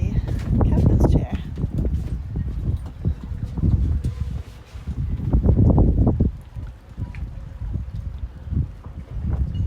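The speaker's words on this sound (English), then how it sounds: "it was a little windy out there" Wind gusts buffet the microphone outside on a boat deck, coming in loud rumbling bursts that rise and fall, with someone talking over it at times.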